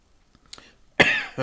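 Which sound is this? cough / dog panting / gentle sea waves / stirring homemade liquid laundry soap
cough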